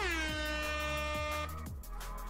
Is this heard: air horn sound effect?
yes